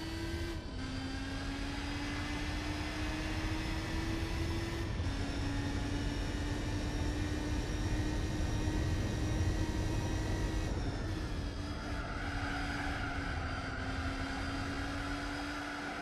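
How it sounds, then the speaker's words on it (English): Muscle car engines droning in the racing game Gran Turismo 4, a sustained steady engine tone with pitch climbing through shifts and a second engine note joining near the end, no talking. "Well, it makes sense that they have different sounds because they have different engines."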